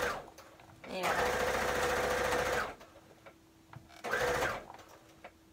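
A motor-driven electric sewing machine starts when the foot pedal is pressed and runs in two steady bursts of fast stitching, close and fairly loud, with quieter pauses between them.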